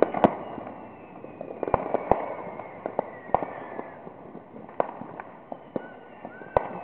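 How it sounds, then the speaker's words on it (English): Fireworks go off all around outdoors at night, giving repeated sharp cracks and bangs, some near and some farther off, with irregular spacing and a whistling rise between them. "It's hard to see, but watch for the fireworks."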